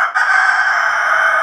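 A rooster crows loudly and close by, one long sustained call after a brief pause at the start.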